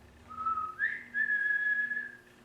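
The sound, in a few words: a person whistling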